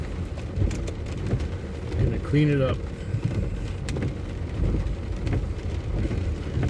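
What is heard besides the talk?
heavy rain pouring outside a car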